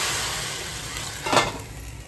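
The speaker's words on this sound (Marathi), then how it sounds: "मी टाकते फोडणी आणि झाकण ठेवलं." Hot tempering is poured into saar, a thin lentil soup, as it cooks for a Holi meal, giving a brief hiss of sizzle that swells and fades quickly over steady background noise.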